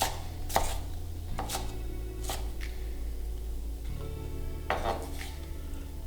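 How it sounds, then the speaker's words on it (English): A knife coarsely chops sliced peppers on a cutting board, giving a few sharp, close knocks spaced unevenly over a low background hum. "just give it a coarse chop to get rid of the larger pieces"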